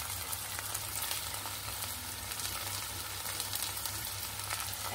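Chopped green chilies go into a frying pan for a Bengali potol dorma with fish, giving a steady, close sizzle and faint stirring throughout, with no talking.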